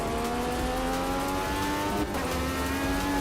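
Race car engine in a racing simulator game, a Formula USA car at WWT Raceway, holding a loud, dense, steady roar with slight rises and dips in revs as the throttle is feathered, continuous and close.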